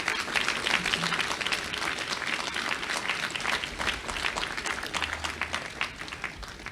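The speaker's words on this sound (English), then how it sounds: "let's give the Kelly family a round of applause" An audience applauds the Kelly family at a college student commons dedication, with steady, moderately loud clapping from a crowd that continues evenly without any speech.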